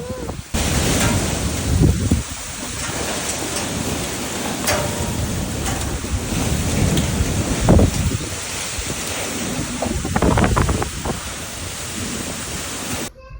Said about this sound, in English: it's finally raining! It's beautiful!